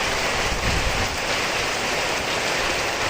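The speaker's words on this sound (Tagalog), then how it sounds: "Ayan, kumana na naman yung ulan." Heavy rain pours down steadily in a dense, hissing wash that stays loud and unbroken throughout.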